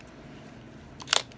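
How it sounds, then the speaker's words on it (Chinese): A Canon EOS 10QD film SLR fires its shutter once: a single sharp, close mechanical click near the end, over a faint, quiet room background. "快门闪灯都正常，快门闪灯都正常动作"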